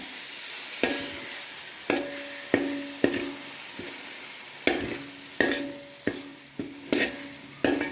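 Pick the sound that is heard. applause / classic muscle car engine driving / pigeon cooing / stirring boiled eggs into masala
stirring boiled eggs into masala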